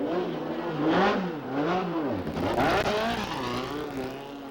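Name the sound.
Formula Atlantic race cars on wet track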